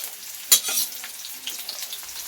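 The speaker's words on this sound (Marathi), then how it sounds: "तेल व्यवस्थित गरम झालं की त्याच्यामध्ये थोडासा कांदा चिरलेला बारीक चिरलेला कांदा टाकून घ्यायचा आहे" Finely chopped onion hitting hot oil in a wok, a sharp burst of sizzle followed by a steady frying hiss with faint stirring clicks, close and without any voices.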